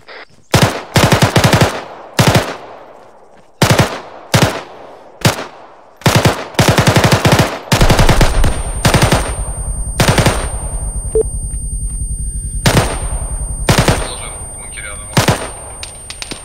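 Loud machine gun bursts in the video game ARMA 3, repeated volleys in quick strings with short gaps, close and sharp over a low steady background hum.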